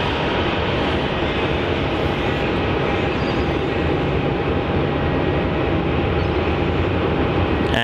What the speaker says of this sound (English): It's a 717-200, so yet another pocket rocket.